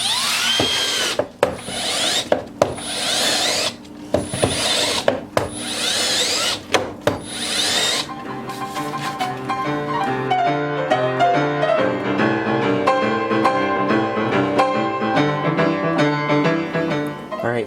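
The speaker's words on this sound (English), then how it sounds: "So now guys, it's time to drill a hole." Several loud bursts of a power drill whirring into material in the first half, followed by music playing on its own.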